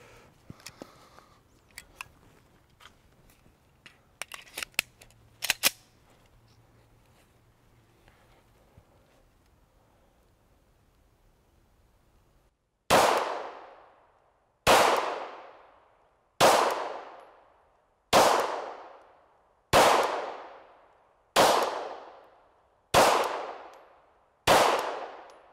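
Glock 17 Gen 4 pistol fired at a shooting range: eight loud, sharp shots at an even, steady pace of roughly one every second and a half, each with a decaying echo, following quieter handling clicks and clatter.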